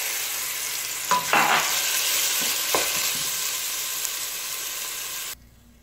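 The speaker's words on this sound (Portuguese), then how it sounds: "Vamos fritar esse frango." Seasoned chicken sizzles loudly in a hot pan, a steady hiss broken by a few scraping stirs, before the sound cuts off abruptly.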